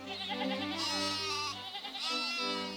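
Sheep bleat loudly and close at a vast Australian sheep station in Rawlinna, with several overlapping wavering calls running almost continuously with no gaps.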